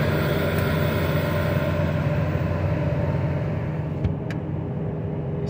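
A 2014 Ford F450 Super Duty Powerstroke diesel holds a raised, steady high idle during an exhaust filter burn-off, a loud, constant drone with a strong low hum and no talking.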